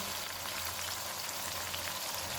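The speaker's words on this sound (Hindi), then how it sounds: "इनको 3 से 4 मिनट तक भूनेंगे" Ground coriander, cumin, red chilli and turmeric with chopped tomato frying in a pan, giving a steady, dense sizzle that holds at an even level throughout, with no voices.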